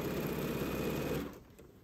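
A sewing machine runs steadily for about a second, stitching quilting lines with a walking foot, then stops and leaves a quiet room tone.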